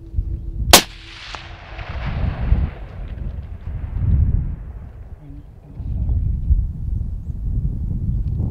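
A single sharp rifle shot from a .25-06 on an impala hunt cracks out near the start and is followed by a rolling echo, then quiet outdoor ambience with faint rustling and low murmurs.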